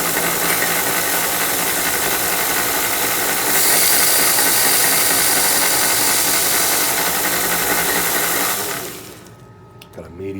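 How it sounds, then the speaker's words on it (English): Belt sander grinding a brass saxophone mouthpiece bite plate, a loud steady motor whine with harsh abrasive hiss that brightens midway, then spins down near the end. "So I'm going to do that using the belt sander a little at a time."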